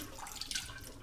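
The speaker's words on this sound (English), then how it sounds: "Just to rinse a little bit, just to get rid of the old water." Running water rinsing tofu in a kitchen sink, a brief close splashing trickle with light drips, no talking.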